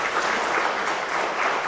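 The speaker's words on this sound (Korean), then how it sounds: "아내를 위해서도 박수를 한번 부탁드립니다" Steady, full audience applause at an organ recital concert, honoring the performer's wife, a gayageum player, sustained evenly throughout with no talk.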